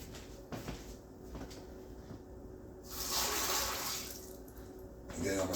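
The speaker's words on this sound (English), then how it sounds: "I'm gonna drain some of this oil off." Bacon grease oil is poured off from a frying pan, a bright rushing liquid stream rising for about two seconds mid-clip, set among quieter kitchen handling noises and a final clatter.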